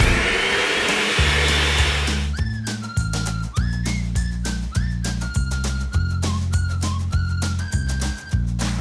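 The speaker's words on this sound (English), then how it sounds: "Masha, here is the mixer. Please mix this all together." An electric mixer beats egg yolks with powdered sugar for tiramisu, starting after a soft rush of noise into a loud steady motor whine that steps between pitches, with repeated clicks and knocks against the bowl.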